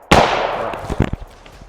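A single sharp rifle shot cracks at an outdoor shooting range, loud and close, with a ringing decay and a few faint knocks trailing after it.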